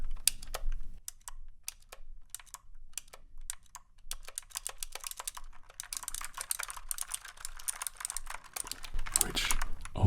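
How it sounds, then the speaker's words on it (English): Typing on a compact typewriter-style keyboard gives crisp, rapid clacking keystrokes close up, sparse at first and then building into a dense, continuous run of clicks. "compact keyboard here. It's meant to sound like a typewriter, which it does, and it sounds really good"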